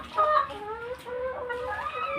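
Hens in a backyard flock, the nine survivors of a Ranikhet disease outbreak, cluck and warble in short overlapping calls close by, with no voices.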